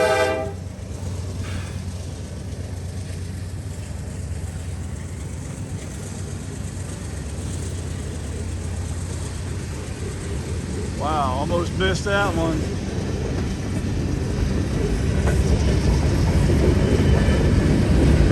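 A train rumbles past loudly while its horn sounds in a few long blasts; a person speaks briefly over the noise.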